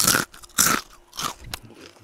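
Two loud, close crunchy bites into crisp fried chicken, followed by quieter chewing and crackling.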